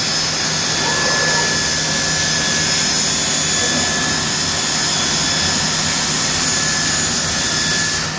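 A Cosmec CNC machine runs steadily while line boring a row of shelf holes, a loud continuous machine whine and hum throughout with no clearly separated drilling strokes.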